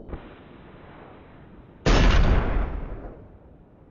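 A single loud AWM sniper rifle shot in the PUBG video game, a sudden sharp blast that rings out and decays over about a second in otherwise quiet game audio.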